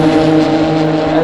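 Porsche Group C race cars in the Assetto Corsa racing game pass close by, their engines making a loud sustained buzzing roar with layered harmonics and a slight dip in the middle.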